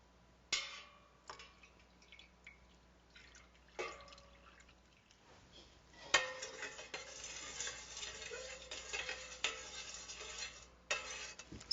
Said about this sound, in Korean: 미리 만들어 놓은 250ml의 염액을 넣어 유리봉으로 잘 저어줍니다.